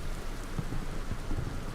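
Heavy rain in the World War II strategy game Combat Mission: Battle for Normandy, heard as a steady, dense hiss of downpour with low rumbling texture throughout, no voices.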